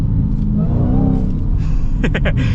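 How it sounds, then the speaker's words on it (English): A Dodge Challenger Hellcat engine revs and rumbles up close, then a few sharp pops and crackles burst from the exhaust near the end. "It's so jumpy and the exhaust kind of crackles."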